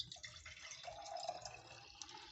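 Rice water being poured from one vessel into a storage container, a steady close trickle and splash of liquid running continuously throughout with no talking.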